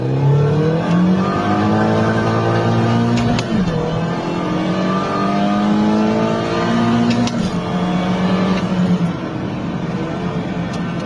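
A Mini Cooper S engine idles loudly and close, revving up twice with rising pitch before settling back to a steady idle.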